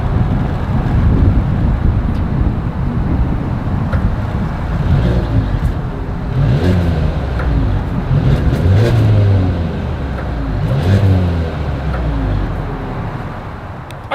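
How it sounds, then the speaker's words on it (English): Exhaust of a 2022 Mercedes-Benz GLA 250 recorded outdoors, a low engine rumble with a few revs rising and falling over steady wind buffeting on the microphone. "As always, here is that exhaust clip."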